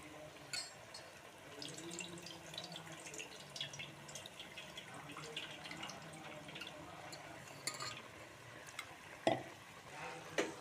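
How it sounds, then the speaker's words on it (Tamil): Prawns simmer in their own released liquid for a gravy, a soft, low bubbling and gentle sizzle with faint watery stirs and an occasional louder clink near the end. "இறால் பாருங்கள், நல்லா தண்ணி விட்டு வெந்துட்டுருக்கு."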